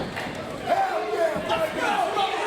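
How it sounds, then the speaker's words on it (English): An MLW wrestling crowd roars and cheers for Jacob Fatu in an arena, a dense, steady wash of voices with a few rising shouts. "And this crowd comes alive for Jacob Fatu, at least in this moment."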